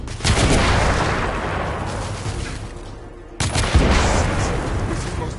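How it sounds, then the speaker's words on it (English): Dense, loud gunfire and explosive booms in a Victorian-era shooter game, with a sharp burst of a blast partway through, continuous barrage throughout. "I'm taking suppressing fire!"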